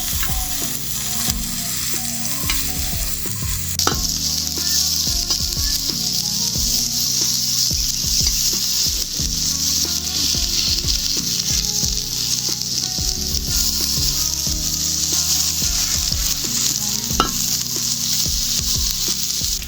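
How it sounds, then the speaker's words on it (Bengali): Cauliflower florets frying in hot oil sizzle loudly and continuously close by, with occasional scraping and clinking from turning the pieces in the pan, and no talk. "এই যে প্রথমে যে ফুলকপিগুলো দিয়েছিলাম সেগুলো ভাজা হয়ে গেছে 2 পিঠ লাল লাল করে।"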